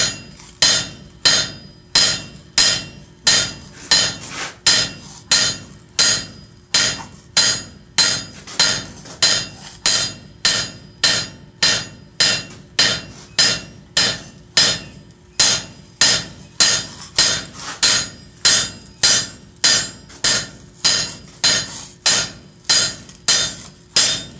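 Steady, rhythmic hammering while forming a bowl in a live demonstration, about forty sharp metallic strikes at an even pace of nearly two per second, loud and close, with no talking.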